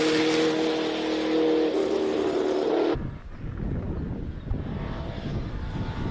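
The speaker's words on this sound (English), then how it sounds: "Emil Botha with the Nissan 350Z powered by an LS V8 rear-wheel" A Nissan 350Z with an LS V8 swap roars uphill at a hillclimb race, its engine droning loud and rising in pitch before dropping away abruptly as the car passes, leaving a rumbling, fading exhaust note in the distance.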